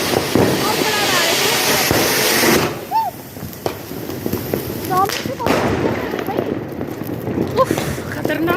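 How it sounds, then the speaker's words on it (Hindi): An anar fountain firecracker hisses and roars loudly on Diwali night, with a sharp crackle partway through. Voices talk and shout over the burning. "ये जला दिया मैंने अनार, जला दिया भाई।"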